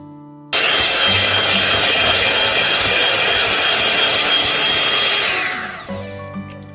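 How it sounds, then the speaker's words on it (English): An electric blender whirs loudly as it mixes boondi batter, starting abruptly and running at a steady high-pitched drone for about five seconds before winding down and stopping. "You have to use this blender"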